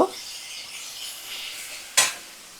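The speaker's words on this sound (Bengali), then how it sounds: "পেঁয়াজটা চার পাঁচ মিনিট আমি এভাবে ভাজা করে নেব" Onions fry in oil over a medium flame for a mutton and potato curry, hissing softly and steadily, with two sharp utensil scrapes against the pan at the start and near the end.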